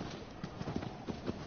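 Hooves of the horse Agro in the Shadow of the Colossus video game, a quick rhythmic clip-clop of galloping steps, steady and moderately close, with no talk over it.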